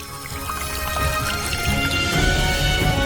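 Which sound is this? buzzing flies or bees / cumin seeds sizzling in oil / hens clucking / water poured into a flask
water poured into a flask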